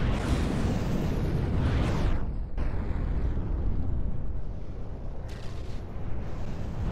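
Cannon fire and explosions in the naval combat game From The Depths, heard as a loud, continuous roar of blasts and rumbling booms with a sharp burst near the middle and no talking.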